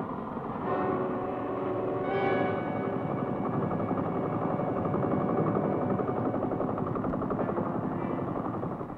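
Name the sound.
military helicopter in flight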